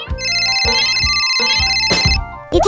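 A telephone rings loudly and close, its electronic tones repeating in a steady pattern with brief gaps, and no talking over it.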